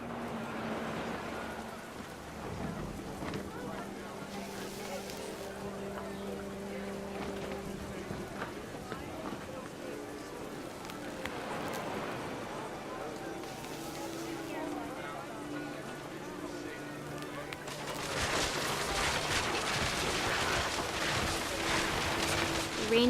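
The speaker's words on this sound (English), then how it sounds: "The rain came down in buckets then," Heavy rain pours down in the game What Remains of Edith Finch, a dense, steady wash of rainfall with low rumbles underneath, swelling louder toward the end while a voice narrates over it.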